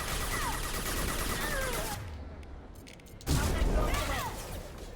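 Submachine gun fire in Mass Effect 2 (Legendary Edition) rattles in loud bursts, drops away for about a second, then surges back in a heavy volley mixed with other game combat sounds.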